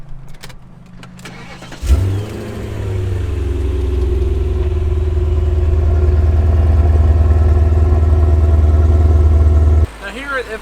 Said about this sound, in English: I want to show you the startup. We'll start it up here. We'll let it warm up a little bit.